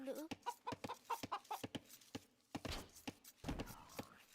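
Chickens clucking in an Age of Empires match, a series of short clucks in quick succession, fairly faint, with brief pauses and a burst of other game sounds near the end, no talk over them.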